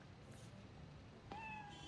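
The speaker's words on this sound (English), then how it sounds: "Pet the cat." A cat in the video game Spider-Man: Miles Morales gives a single short, faint meow near the end after a quiet stretch of background ambience.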